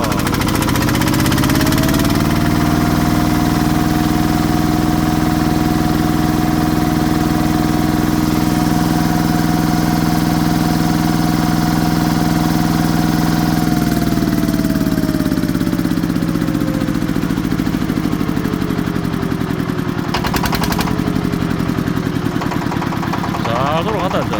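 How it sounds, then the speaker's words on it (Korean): A repaired farm machine's engine runs steadily at close range with a loud, even drone, slowing and dropping in pitch partway through, with faint voices in the background. "진짜 잘 돌아간다 엔진 소리도 진짜 이게 이게 정상적인 소리입니다"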